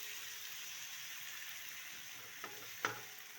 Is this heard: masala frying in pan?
yes